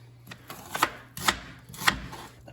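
Knife slicing onions into a julienne cut for a Sicilian sfincione pizza, heard as three crisp, evenly spaced chopping strokes on a board, close and clear with no talk.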